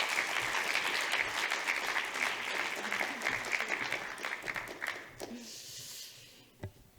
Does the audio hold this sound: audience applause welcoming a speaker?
yes